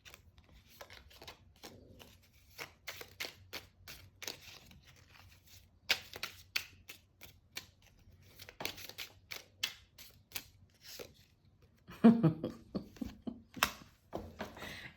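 Tarot cards shuffle and slide in a quiet room, a close, soft run of crisp snaps and papery riffles, irregular and intermittent, with a slightly louder flurry near the end as a card is drawn.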